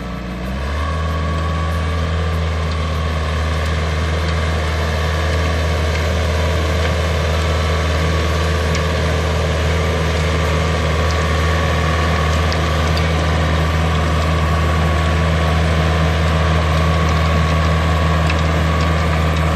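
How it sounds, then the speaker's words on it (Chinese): A Yanmar US545 tractor engine running at fixed throttle, a loud, steady, close diesel drone with a strong low hum and mechanical rattle that holds constant throughout, with no talk. "等你回转力下降的时候，它引擎转速会再拉高到我们的固定油门的转速"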